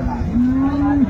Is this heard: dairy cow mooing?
yes